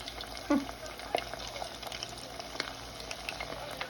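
Chicken lollipop legs dunked and deep frying in hot oil, a soft steady bubbling sizzle with a few louder pops and spatters, quiet and close.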